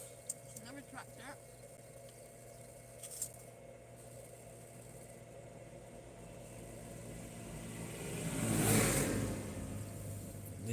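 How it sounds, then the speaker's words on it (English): A tractor engine rises out of a low rumble and swells to a loud pass near the middle of the clip, then fades, with a person talking over the engine noise. "Another tractor."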